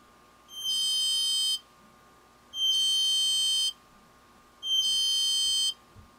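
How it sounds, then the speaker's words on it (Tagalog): A high-pitched electronic wireless buzzer driven by a Sonoff micro USB smart switch beeps three times, each tone lasting about a second with regular pauses between, over faint background hum. "Pwede tayong gumawa ng wireless buzzer."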